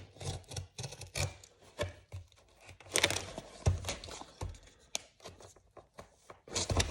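A small label on an official Porsche watch box being cut during an unboxing, heard as close, busy scraping, crinkling and rustling of paper and cardboard with uneven bursts and no talking.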